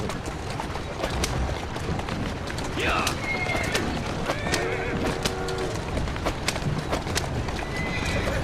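A horse whinnies a couple of times amid hoof clip-clops in the video game Assassin's Creed Syndicate, with a person talking over the sounds.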